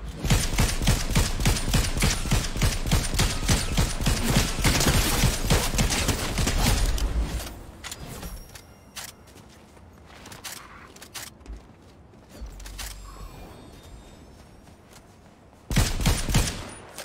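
Rapid automatic gunfire from the Fortnite video game rattles loudly for several seconds, drops to scattered shots and clatter, then bursts back in near the end.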